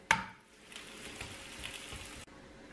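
Food fries in a pan just after being flipped, starting with a sharp clack and settling into a soft, steady sizzle before it briefly drops off.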